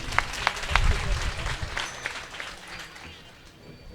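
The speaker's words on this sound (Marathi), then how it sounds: "एकदा जोरदार टाळी वाजवा." An audience at a devotional kirtan gathering claps loudly in welcome as the swami, Guru Manishanand Puriji, arrives in the pavilion. The applause is dense and fairly near at first, then gradually thins and fades.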